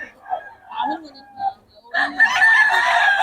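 Young stag rooster crowing at close range, a loud drawn-out crow in the second half after softer clucking and indistinct sounds, with people talking around it.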